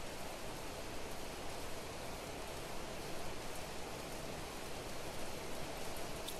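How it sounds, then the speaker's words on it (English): Rain falling in the video game Planet Crafter, a faint, steady broadband hiss of downpour with no voices over it. "Man, it's really raining."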